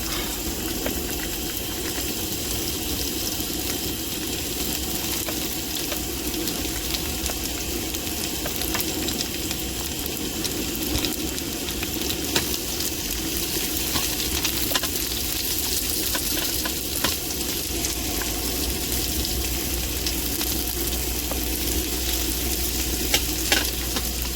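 Onions frying in a pan inside a truck, a dense continuous sizzle with frequent scraping stir strokes and small clicks throughout; close and fairly loud, no voices.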